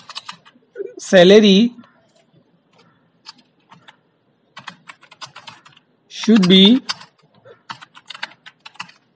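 Clicking computer keyboard keys tapped while entering field properties in Microsoft Access, a scattered run of light, close ticks between two short bursts of speech.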